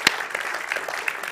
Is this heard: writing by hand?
no